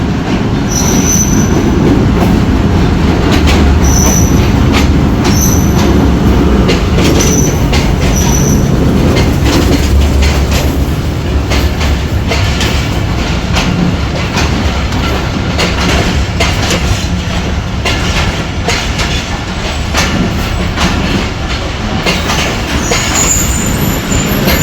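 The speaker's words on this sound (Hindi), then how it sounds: "ये सामने 46 डाउन पाकिस्तान एक्सप्रेस अराइव कर रही है प्लेटफॉर्म नंबर 5 पर" The 46 Down Pakistan Express pulls into platform 5 behind locomotive PH20 8317, its wheels squealing sharply over a loud, continuous rumble and clatter of carriages close by.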